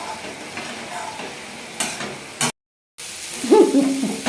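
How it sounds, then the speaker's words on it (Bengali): Taro leaves frying over a low flame are stirred with a spatula, giving a soft, steady sizzle with occasional scraping strokes. There is a brief silent break, then louder stirring returns. "মাঝে মাঝে এইভাবে এটাকে নেড়ে নিতে হবে"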